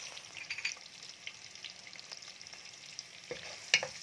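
Onions sautéing in a pan, a soft continuous sizzle broken by intermittent stirring scrapes and a sharp spatula clink near the end, close-up with no talking.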